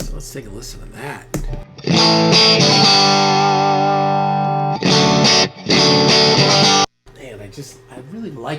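Distorted electric guitar through an amp with the gain backed off, playing a part of loud sustained chords ringing out, with a couple of short breaks and a brief silence near the end.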